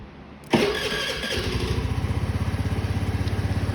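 A 2022 Honda Navi motorcycle is started on choke in a cool shop. A sharp click and a brief cranking whir catch into an engine that settles into a steady, rapid, close idle putter.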